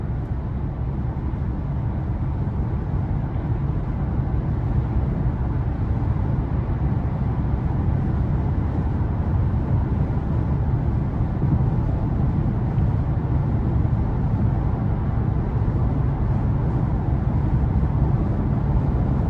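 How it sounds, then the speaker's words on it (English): Steady broadband wind and road roar fill the cabin of a 2021 Toyota Avalon Limited AWD cruising on the interstate, a constant low rushing drone that stays even and unbroken, with no talking. "I'm coming down the interstate and I can definitely hear the wind"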